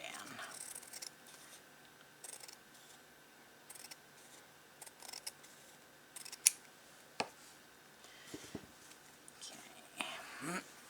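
Scissors snip excess from slow-stitched fabric, faint and close by in a quiet room. A few crisp cuts land between soft handling noises, and a voice speaks quietly now and then.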